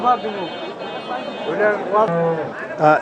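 Crossbred cattle at a traditional weekly Bangladeshi livestock market low and bellow close by. Loud voices talk over and between the calls.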